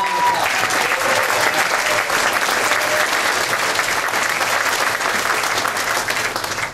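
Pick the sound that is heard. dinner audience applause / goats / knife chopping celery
dinner audience applause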